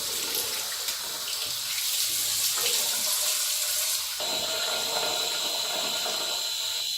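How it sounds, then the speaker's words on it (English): Warm tap water runs steadily from a faucet into a sink while someone rinses their face, a continuous close splashing hiss with a brief break and shift in tone midway, no talking. "then I rinse my face with warm water"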